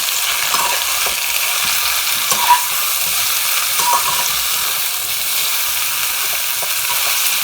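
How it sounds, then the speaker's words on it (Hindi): Vegetable kebabs frying in a pan over a high flame, a steady bright sizzle and hiss throughout with a few small pops, close and loud and with no talking. "इनको फ्राई करेंगे। फ्लेम को हाई रखेंगे।"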